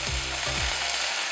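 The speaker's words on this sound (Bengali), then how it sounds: "এবার জল দিচ্ছি আমি" Water hits a hot pan of browned, frying moong dal, setting off a loud, hissing sizzle burst with a few quick stirring scrapes over just over a second.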